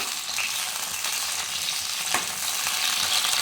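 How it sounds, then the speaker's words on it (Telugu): Brinjals fry in hot oil, a steady close sizzle with a bright crackling hiss and one brief clatter as they move in the pan, no voices heard. "మనం ఇందాక క్లీన్ చేసి పెట్టుకున్న వంకాయలను అయితే ఈ ఆయిల్లో వేసేసుకోండి"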